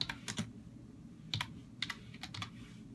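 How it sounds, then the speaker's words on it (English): Quick, uneven keystrokes on a computer keyboard typed with one hand, sounding as close, clicky taps in short clusters with pauses between them. No one speaks. "I'm trying to type with one hand,"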